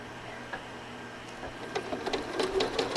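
Home sewing machine stitching extra large ribbon candy quilting with rulers, a faint rapid mechanical chatter that grows busier and louder toward the end, with no talk.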